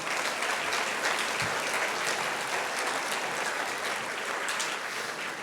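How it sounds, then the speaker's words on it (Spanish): Church congregation applauding steadily throughout, a dense, sustained wash of many hands clapping at a constant level with no break. "¿Cuántos pueden darle un aplauso al Señor?"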